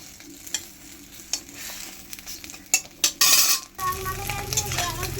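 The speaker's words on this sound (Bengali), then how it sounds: "তো ডিম তো ভাজছি" Eggs frying crisp in a home-kitchen pan, with scraping stirs and utensil clinks over a steady sizzle; the frying swells louder and hisses strongly toward the end, with no talking.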